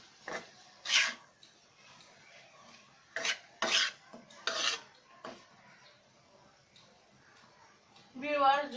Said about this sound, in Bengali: এখন আমরা এটাকে একসাথে মিলিয়ে নেড়ে নিব।